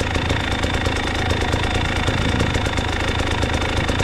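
A motorcycle engine runs at a steady idle, a loud, close, continuous rumble with a fast regular knocking pulse throughout and no voices.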